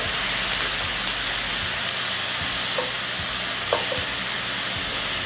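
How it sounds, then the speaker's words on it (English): Fajita filling sizzling loudly in a hot pan as it is stirred, a dense continuous frying hiss with a few soft scraping knocks. "I'm going to give these just a little stir"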